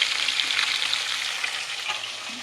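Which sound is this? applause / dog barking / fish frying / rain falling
fish frying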